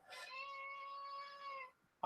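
A single drawn-out cat meow, close and clear, holding a steady tone for over a second before stopping, followed by a brief click.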